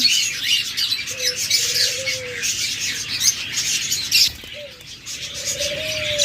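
Budgerigars and cockatiels kept for sale, including albino budgies, fill the air with constant high chirping and chattering, while a few longer squawking calls stand out clearly from the flock.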